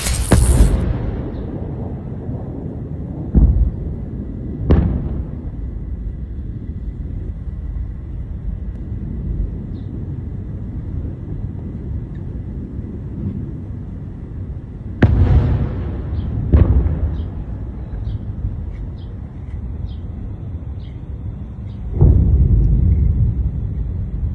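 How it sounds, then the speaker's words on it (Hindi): Iranian missile launches seen in news footage, heard as a sustained distant roar and rumble punctuated by several sharp booms and cracks, loud and echoing across open sky with no speech. "मिसाइल लॉन्च के बाद ईरान का जो मंजर था आसमान में देखिए"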